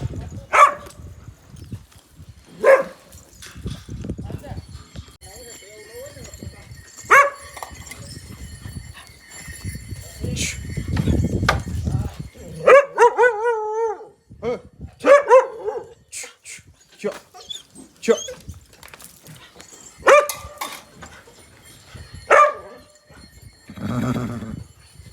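At a rural Gir stable, a dog lets out sharp, separate barks spread across the scene, some close and some farther off, mixed with horse whinnies and quiet stable noise.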